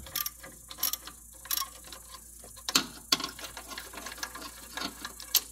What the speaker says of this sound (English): so now the adjuster bolt, it's a 13, so just loosen it up.